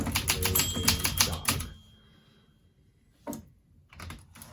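Fast, crisp keystrokes clatter on an Olympia SM9 manual typewriter, close and loud, then stop; after a quiet gap come a single mechanical clunk and a few more scattered clicks.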